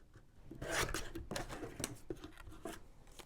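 Paper being cut with scissors to shape a fishtail end on a roughly 3 1/4 inch scrapbooking banner: a quiet, close run of short rasping snips and rubs.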